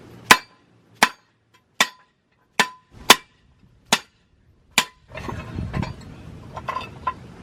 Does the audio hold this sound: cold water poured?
no